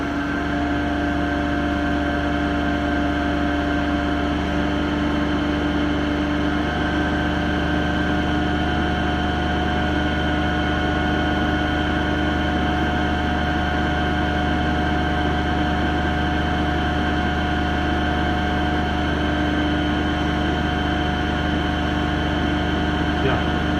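A DC shunt motor runs at about 1500 RPM on a lab bench, giving a steady, loud mechanical hum with constant tonal whine throughout and no change in pitch.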